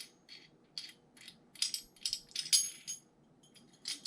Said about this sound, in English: Go ahead and unscrew that.